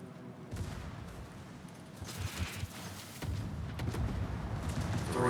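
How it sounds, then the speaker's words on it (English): Naval guns fire in World of Warships as a series of muffled booms and rumbling salvos over about five seconds, building louder toward the end. "I'm gonna switch to guns"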